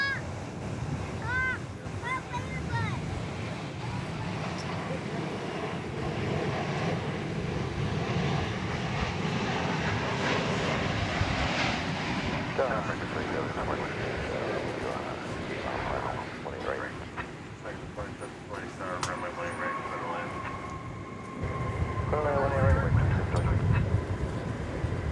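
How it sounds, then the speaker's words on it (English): A transatlantic airliner arriving from Charles de Gaulle touches down, its engine roar and wind rumble steady at a distance throughout, swelling louder near the end, with a commentator talking over it. "Touching down after 9 hours and 37 minutes of that transatlantic journey."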